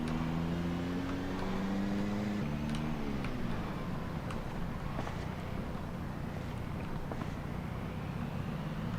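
A car engine drives in the zombie survival game Project Zomboid, a steady low hum with a rising then falling tone at the start, followed by a continuous rumbling drone.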